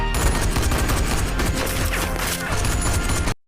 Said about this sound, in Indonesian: inilah skill kehebatan Kim dalam menembak fokus